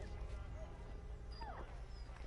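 A dog whimpers and yips in Assassin's Creed III Remastered, with short, thin whines over the game's low, steady background sound.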